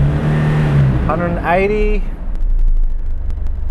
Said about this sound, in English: Okay, I'm just gonna flat rev it.